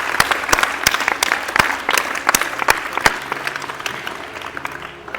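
An audience claps to welcome a performer named Daksh at a Teacher's Day celebration, with dense, steady applause of many hands, close and loud, gradually thinning toward the end.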